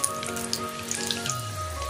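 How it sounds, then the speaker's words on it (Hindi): Whole cardamom, clove and cinnamon sizzle softly in melted ghee, a faint steady frying crackle with scattered small pops over a low hum, no voices. "अब मैं इसमें डालूँगी 2 इलायची, 1 लौंग और 1 दालचीनी, और इसको मैं 1/2 मिनट के लिए सॉटे कर लूँगी"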